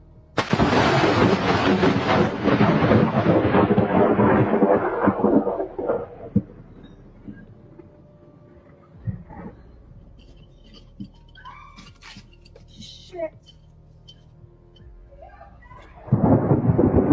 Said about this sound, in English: a woman was feeding her horse right before a storm when lightning struck an electrified fence post near her